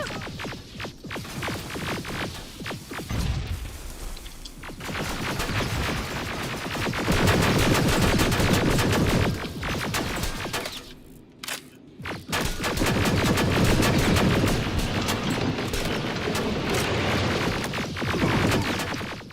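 Gunfire in Terminator Resistance, a loud, busy run of rapid shots and heavy blasts across the clip, with a short drop in the middle before the firing picks up again.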